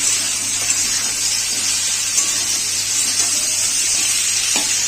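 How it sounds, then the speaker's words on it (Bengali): Pointed gourd and potato pieces fry with salt and turmeric in a pan, making a loud, continuous, close sizzle with occasional light clinks of stirring and no talk. "নুন হলুদ দিয়ে পটল আলুটাকে ভালো করে ভেজে নেব।"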